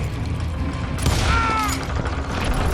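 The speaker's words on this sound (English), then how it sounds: "a fusillade of bullets come raining down from on high" A volley of gunfire in the Western shooter video game Call of Juarez: Gunslinger, with a burst of shots and ricochet-like whines over rumbling background noise, no speech.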